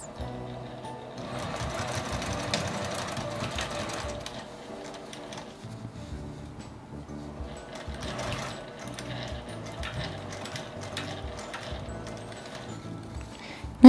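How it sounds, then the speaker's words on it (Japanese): A sewing machine stitches a canvas tote bag in steady, quiet bursts of rapid mechanical whirring, pausing briefly between runs, with a sharp click at the very end. "縫い代の重なったところはゆっくりとミシンを回します。"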